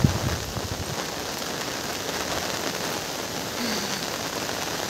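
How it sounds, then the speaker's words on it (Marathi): Heavy morning rain pours steadily over a garden, a dense continuous hiss of drops drumming on surfaces close by, loud and unbroken throughout. "पाऊस चालू आहे बघा किती जोरात"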